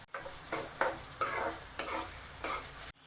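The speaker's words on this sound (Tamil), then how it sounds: "இப்போ இஞ்சி போடலாம்." Ginger goes into onions frying in a pan and gets stirred, giving a constant oil sizzle with about six rhythmic scraping strokes of a spoon, close by, quiet, and with no voices.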